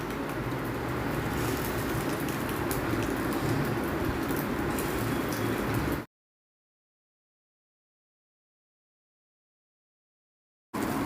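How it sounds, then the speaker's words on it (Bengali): Fish roe sizzles steadily in a frying pan, a dense, even crackle that holds for about six seconds, then cuts to silence before briefly resuming. "এবার মাছের ডিম ভাজবো"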